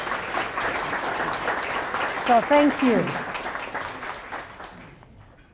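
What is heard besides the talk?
audience applauding themselves at awards event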